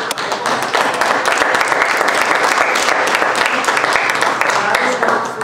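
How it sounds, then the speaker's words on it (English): Loud, sustained applause from a presentation audience, many hands clapping in a dense crackling roar that holds steady, with some crowd voices mixed in. "Round of applause."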